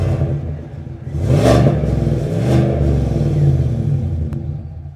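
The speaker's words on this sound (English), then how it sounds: "it sounds like an American dream when you start her up." A 2024 Chevrolet Tahoe Z71's V8 turns over and catches, then revs up in a couple of deep, throaty surges before settling into a steady rumbling idle, loud and close.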